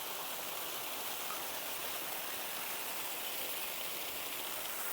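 A waterfall in the Uttarakhand hills rushes in a steady, dense hiss of falling water, continuous and unbroken with no voices over it.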